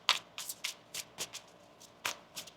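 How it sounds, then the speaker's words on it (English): Tarot cards are shuffled by hand at close range in quick, uneven bursts of crisp riffling and slapping, about eight flurries with short gaps between them and no talking. "One more shuffle."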